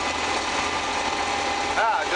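A combine harvester engine drones steadily in first gear at full variable speed while cutting wheat. The engine hum is close and continuous, with a brief higher whine near the end and no clear talk.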